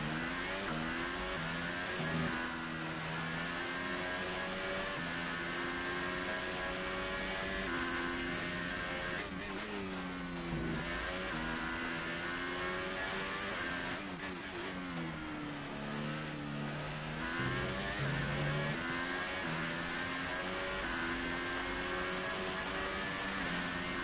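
A Formula 1 race car engine in a racing video game screams continuously for over twenty seconds. The pitch climbs and drops sharply through repeated gear shifts, including early upshifts, with no talk.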